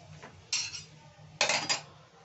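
A cooking pot of amalu, a Jagannath bhog sweet, is lifted off the stove, giving two sharp metallic clanks of pot against the burner grate with a softer clatter in between, close and clear, with no talking.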